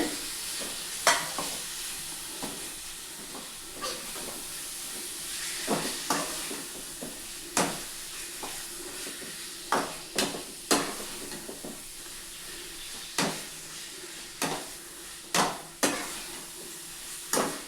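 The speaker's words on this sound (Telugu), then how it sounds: "ఇప్పుడు చికెన్ కలుపుకున్న చికెన్ని దీంట్లో వేసుకొని మిక్సింగ్ చేసుకుంటున్నామండి" Chicken for a kurma sizzles in a pan while being stirred, a constant frying hiss broken by sharp scraping and clinking strokes at an irregular rhythm, close and without speech.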